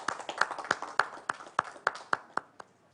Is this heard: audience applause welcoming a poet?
yes